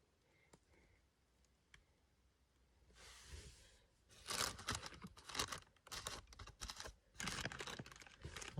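Crinkling and rustling of a plastic bag being handled at close range, in bursts of crackly rustle with short pauses, alone in a quiet room.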